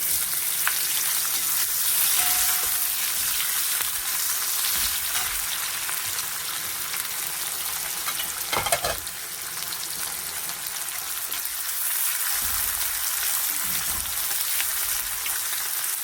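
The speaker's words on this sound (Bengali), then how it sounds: "পেঁয়াজ কুচিয়ে রেখেছি, দিয়ে দিচ্ছি।" Chopped onions frying in a pan with a continuous close hiss and crackle, broken once by a short louder stir, with no one speaking.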